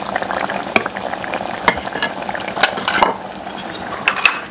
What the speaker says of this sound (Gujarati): તો આપણે એટલા વઘાર કરી નાખશું અને એટલા નાખી દઈએ તુરિયાના શાકમાં.